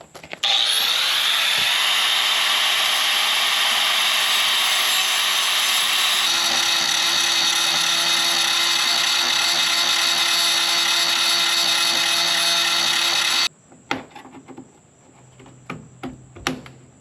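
A power tool grinds steadily through screws on a boat, a loud continuous high whine for about thirteen seconds that shifts pitch partway, then cuts off to scattered clanks and handling noises.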